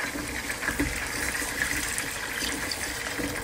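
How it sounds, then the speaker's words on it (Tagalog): Water pours steadily from a cup into a soup pot for creamy mushroom soup, a continuous close gushing splash lasting the whole moment with no talk over it. "Ilagay natin yung 3 tasang tubig."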